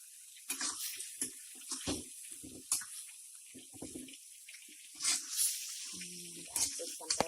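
Live crabs drop into a pot for a sour spicy chili crab dish cooked on the Bengkulu coast, with several wet splashes and clattering plops, moderately close amid quiet kitchen handling.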